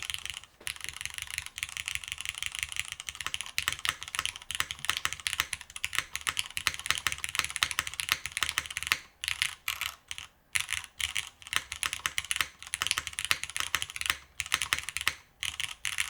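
Rapid, continuous typing clatters on a mechanical keyboard with a metal aluminum plate, close and crisp, keys and spacebar thocking in a dense irregular rhythm with only brief pauses.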